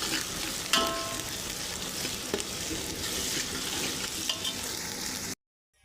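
Chopped onion, tomato and coriander frying in a spiced tempering for a brinjal curry, a steady close-up hiss and crackle with occasional stirring clinks, cutting off abruptly at the end.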